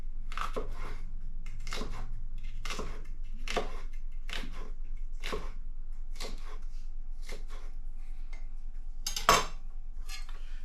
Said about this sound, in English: Cut some little julienne strips.